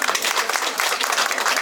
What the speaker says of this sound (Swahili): Simnipigie makofi.